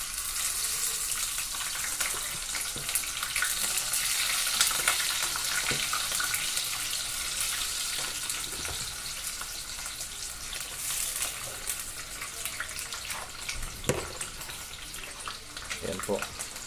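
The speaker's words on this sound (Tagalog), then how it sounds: "Ito po, ilagay na po natin yung hotdog." A hotdog sizzles and crackles steadily in a hot pan, a continuous hiss with occasional sharper pops and brief clatter.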